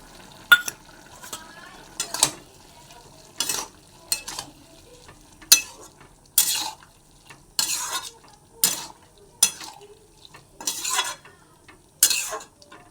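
Ivy gourd pieces frying in oil, heard as a faint sizzle broken by about a dozen sharp, evenly spaced scrapes and clinks of a metal spatula against the pan, close by, without talk.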